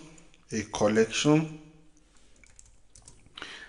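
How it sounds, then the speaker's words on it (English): Typing on a computer keyboard during a programming lesson: soft, scattered key clicks that follow a short burst of talking, fairly close and light. "I'm just going to type"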